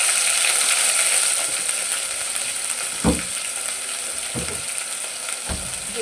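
Ginger garlic paste sizzles steadily in a hot pan, a loud continuous frying hiss broken by a few brief clinks and scrapes of stirring.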